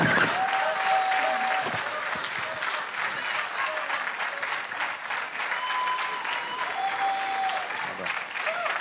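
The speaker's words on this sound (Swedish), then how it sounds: "Applåder och blommor till Göran Hägglund alltså" Audience applause at a party leader's speech in Almedalen 2013, a dense sustained clapping from a sizable outdoor crowd, steady for the whole stretch with faint tonal sounds mixed in.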